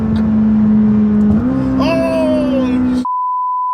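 A McLaren sports car engine revs hard with a steady droning tone that climbs in pitch, then crackles with exhaust pops before cutting off. A short electronic beep rings out alone at the end.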